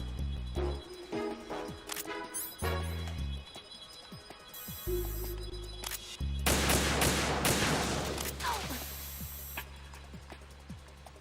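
Gunfire and explosive bursts in the video game Metal Gear Solid 2: Sons of Liberty, several sharp shots scattered among game music and effects, building into a denser, louder stretch of fire near the end.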